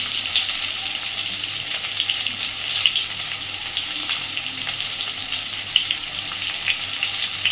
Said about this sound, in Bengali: আলু আর বেগুনটাকে এবার খানিকক্ষণ একটু ভেজে নেব